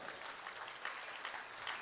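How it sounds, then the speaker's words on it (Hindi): At a comedy poetry show, the audience claps for doctors and police in a brief, fairly quiet burst of steady applause with no voices heard. "बिल्कुल तालियां बजा सकते हो आप"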